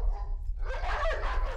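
A dog barks and yips in a quick burst of several sharp calls at close range, mixed with whimpering, over a low rumbling background.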